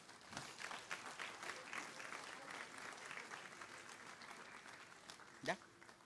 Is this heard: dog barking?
no